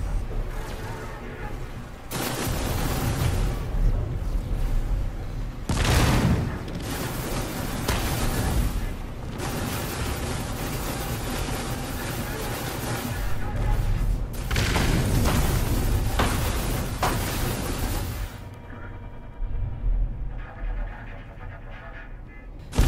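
Repeated heavy booms and blasts from weapons fire destroying fuel pods on a ship in the No Man's Sky space game, loud and dense, in several long bursts that stop near the end, leaving a quieter tail.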